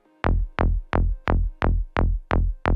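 A donk bass layer from an FL Studio drum and bass track pulses eight times at an even rhythm, each hit a punchy, decaying tonal thump, loud and dry with nothing else playing.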